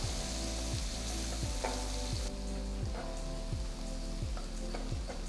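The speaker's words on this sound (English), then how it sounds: "Saute the onions till they turn to a nice golden color." Finely chopped onions and three cut green chilies sauté in hot oil for bhindi do pyaza, a steady close sizzle running throughout with a low hum and rhythmic pulsing underneath.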